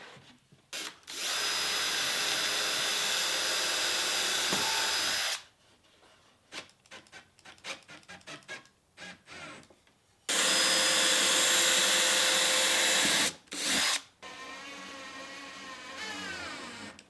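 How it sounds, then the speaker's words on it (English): A power drill bores two pilot holes for screws into an IKEA Trofast storage shelf: two long, loud, steady whining bursts, then a shorter burst with handling clatter and knocks in between. "I'm gonna do 2 pilot holes for my screws and attach it"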